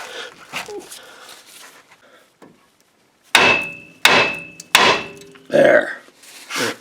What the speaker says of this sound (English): with your big friendly hammer, we got to give it some strategic taps right here to break the rust bonds holding this tie rod